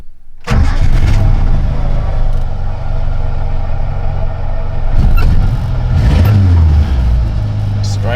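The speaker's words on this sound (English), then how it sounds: "we chucked the 3K Corolla carby on, and now it starts like this" A 1987 Suzuki Sierra tin top fitted with a 3K Corolla carburettor cranks and fires almost instantly, then settles into a loud, steady idle with a couple of brief revs, close by.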